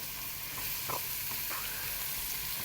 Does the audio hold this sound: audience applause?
no